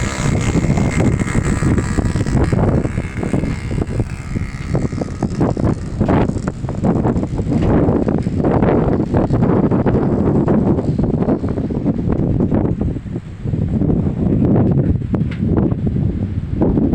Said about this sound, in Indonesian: Anginnya cepat sekali, besar sekali